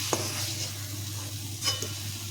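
Paneer and potato masala frying in a pan is stirred around, with a close steady sizzle broken by a few spatula scrapes and clinks against the pan.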